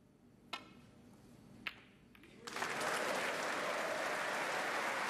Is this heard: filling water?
no